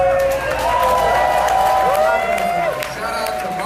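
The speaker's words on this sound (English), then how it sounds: "Let's clap it up." A live comedy podcast audience at a comedy festival claps and cheers, a loud crowd roar with whoops, while a voice talks over the noise.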